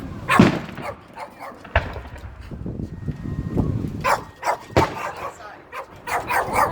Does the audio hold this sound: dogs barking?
yes